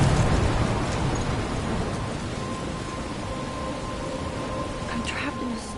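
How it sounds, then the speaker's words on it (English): Stormy weather in Life is Strange, with steady heavy rain hissing close and a low rumble of thunder underneath, fading slightly and then holding constant. "I'm trapped in a storm?"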